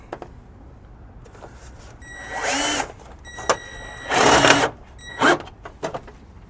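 A power drill drives screws into a plastic gutter guard in three short whirring bursts, each longer spin followed by a brief final one, close and clear against a quiet background.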